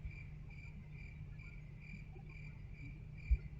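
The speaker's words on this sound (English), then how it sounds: "The crickets in this game crack me up." Steady, rhythmic cricket chirping in the Roblox game RoCitizens repeats in even pulses over a low droning background, with one soft thump near the end.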